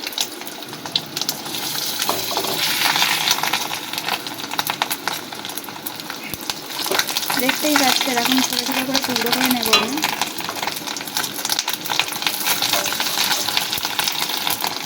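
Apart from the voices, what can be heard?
fish roe pieces frying in pan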